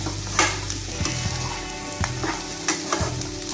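Schezwan egg fried rice being tossed and stirred in a hot pan, with rhythmic spoon scrapes and knocks over a continuous close sizzle, no voices.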